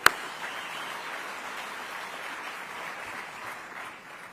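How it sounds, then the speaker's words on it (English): Another round of audience applause at a technology summit, steady scattered clapping from a crowd at moderate distance, opening with one sharp clap and easing slightly toward the end. "I think let's give them another round of applause."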